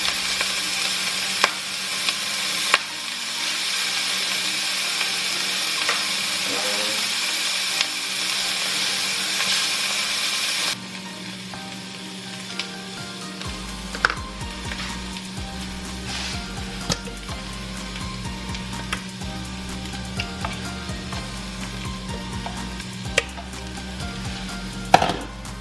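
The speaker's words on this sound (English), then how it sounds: "shrimp is cooking" Shrimp sizzle and fry steadily in a hot pan, a continuous crackling hiss that stays loud throughout, with a low hum joining partway and occasional clicks of utensils.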